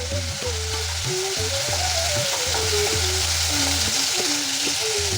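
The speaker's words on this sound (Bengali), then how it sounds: "চিংড়ি হয়ে এসছে বেশি ভাজা যাবে না" Prawns frying in hot oil make a loud, continuous close sizzle, with a low tonal melody running beneath it throughout.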